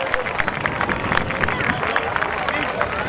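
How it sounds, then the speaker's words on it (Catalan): Crowd applause and cheering at an outdoor horse and donkey race, a steady wash of clapping and babble with scattered sharper claps, moderately loud and continuous. "Donem un fort aplaudiment a Mònica Millán amb el cavall Zeus"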